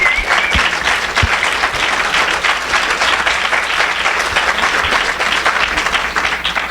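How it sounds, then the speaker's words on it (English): An audience at a Madison startup community town hall applauds steadily and loudly, dense clapping sustained throughout with no speech. "I hope we can give a round of applause for them"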